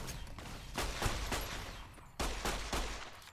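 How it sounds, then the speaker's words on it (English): Gunfire from the game Fallout: New Vegas, a series of sharp shots and bursts spaced irregularly over a few seconds, fairly loud and close, with no talking. "Actually, on second thought, go ahead and shoot, Arcade."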